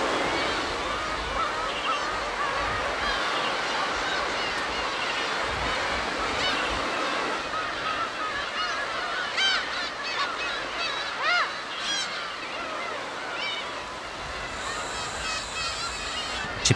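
Gulls mobbing a young peregrine falcon on a West Sea island, a flock giving repeated harsh, honking calls over the steady wash of surf and wind, with louder cries bunching near the end.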